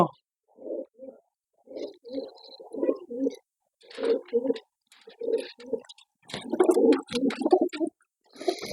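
Pigeons coo in a series of soft, throaty bursts, close by, with short pauses between calls and some light clatter in the background.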